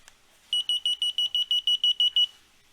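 An ESKY KF06A key finder sounds its alarm: a rapid run of about twelve shrill, evenly spaced electronic beeps, loud and close, followed by quiet.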